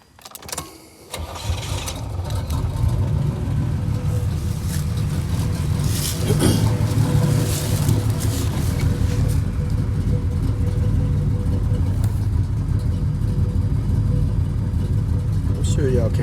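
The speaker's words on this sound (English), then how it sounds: "I'm gonna start the car" A small block Chevy V8 in a Pontiac Grand Prix G-body with a random misfire cranks and catches, then settles into a loud, rough, steady idle up close for the rest of the clip, with a voice heard over it.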